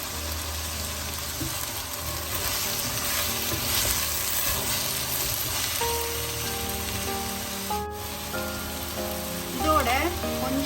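Onions and chopped curry leaves fry in a pan for a vegetable curry bun filling, giving a dense rain-like sizzle throughout with occasional stirring scrapes and a brief sharp crackle burst near the end.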